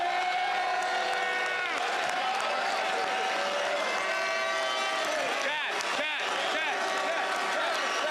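A large outdoor crowd at the Toronto Argonauts' Grey Cup fan rally applauds and cheers its injured starting quarterback, a steady, dense wash of clapping and whoops that holds loud for the whole stretch.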